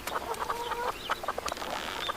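Chickens in a backyard coop cluck in quick, busy bursts, several birds overlapping close by against a light ambient hiss, with no talking.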